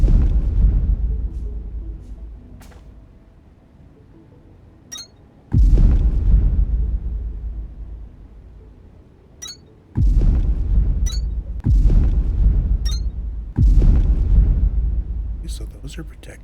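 Several heavy detonation blasts with sudden loud onsets, each decaying into a long rumbling tail over several seconds, spaced irregularly with sharp pops in between.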